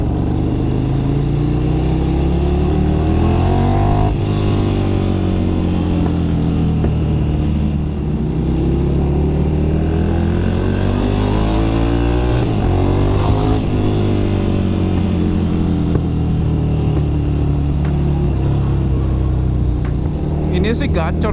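A Ducati Monster 1100 EVO motorcycle engine runs loud and close with deep rumbling idle and repeated revs rising and falling, while a person talks over it.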